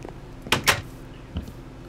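Wooden door in the video game Minecraft opening and closing, two quick knocking clacks close together followed by a fainter third click, with no talk over them.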